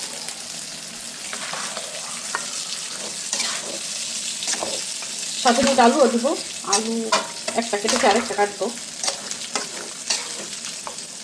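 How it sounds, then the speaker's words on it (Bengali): Pieces of native country chicken sizzle in a pan of cooked-down spice paste, stirred with scraping clatters over a constant frying hiss; a person talks nearby partway through. "যেহেতু মশলা কষানো হয়ে গেছে, এখন আমি দেশি মুরগির মাংস এর মধ্যে দিয়ে দিচ্ছি।"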